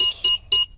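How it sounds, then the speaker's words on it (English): House alarm sounding three bright electronic beeps in an even rhythm as it is switched back on, loud and close, with nothing else heard. "Switch the alarm back on."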